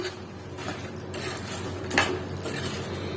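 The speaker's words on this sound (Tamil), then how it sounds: "நான் இப்ப மிக்ஸ் பண்றேன்." A spoon clinks and scrapes against a bowl while laddoo ingredients are mixed, with a few sharp taps standing out over a low steady background.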